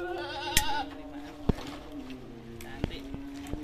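Goats on a breeding farm bleating in a wavering cry, with a few sharp knocks and clatters nearby, while people talk over them.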